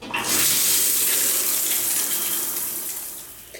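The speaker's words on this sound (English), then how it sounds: "I'm gonna go wash this out of my hair now" Shower water runs steadily while hair is rinsed, a loud, continuous hiss of spray that holds level for several seconds with no talking.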